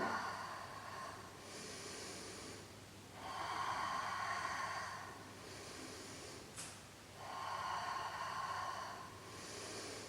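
Rhythmic breaths during a beginner Pilates exercise, with several broad, airy exhales and inhales in a steady cycle, faint and close, over a low steady background hum.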